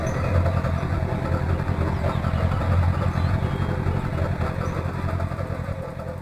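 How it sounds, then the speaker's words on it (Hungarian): A Trabant in the Spintires video game idles with a steady, buzzy two-stroke-style engine drone, continuous and fairly loud, while a person talks over it. "ennek Trabi hangja van, hallod?"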